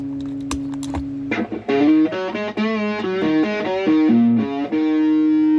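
Telecaster electric guitar notes and chords ring out through heavy fuzz pedal distortion, buzzy and saturated, played alone with sustained tones between picked phrases.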